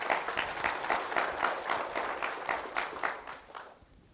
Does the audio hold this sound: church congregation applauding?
yes